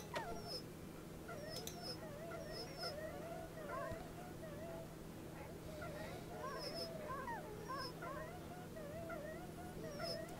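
Injured dogs whimper and whine in the video game Wasteland 2, a string of soft, high yips and cries repeating over a constant low hum.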